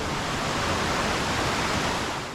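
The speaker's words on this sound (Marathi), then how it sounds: "हा छोटासा ओढा आहे धबधब्याकडे जाणारा" Water rushes in a steady, broadband hiss from a small stream flowing over rocks toward Vanalakshmi Waterfall near Badlapur, with no other sounds.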